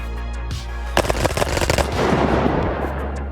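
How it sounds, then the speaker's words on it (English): Glock 18 pistol in a video game fired in full-auto bursts held two-handed, a rapid rattling stream of shots starting after a short pause and running continuously to the end, loud and close. "But two-handing it in full auto,"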